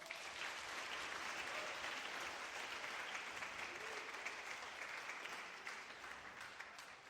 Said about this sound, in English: So one more time, round of applause.